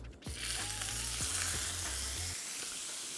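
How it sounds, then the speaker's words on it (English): A steak sizzles loudly in a hot pan of canola oil, a bright crackling hiss that starts abruptly and holds steady throughout. "You want a really nice sizzle, or else you're not gonna get that crust."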